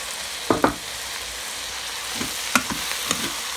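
Steady sizzling and frying hiss of meat in a frying pan throughout, with a few sharp clatters and stirring knocks from the pan, no voices.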